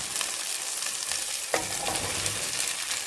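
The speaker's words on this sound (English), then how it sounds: "We're also going to dump in our onions." Celery and onions sizzling in olive oil in a pot for an Irish beef stew, a steady close hiss with a sharp clatter of stirring partway through.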